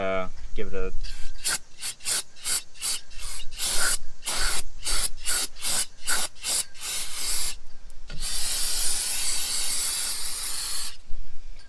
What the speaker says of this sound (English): give it a hose down with some brake cleaner